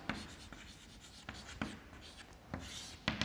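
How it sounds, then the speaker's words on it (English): A teacher writes on a board during a chemistry lesson, producing a series of short, scratchy strokes and taps at irregular intervals, close and moderately loud. "In phenol I am going to write."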